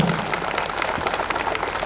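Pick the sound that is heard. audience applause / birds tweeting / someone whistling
audience applause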